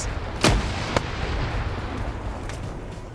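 Gunfire in a PvP multiplayer shooter match, a couple of sharp loud shots at the start followed by fainter scattered reports over a continuous background rumble.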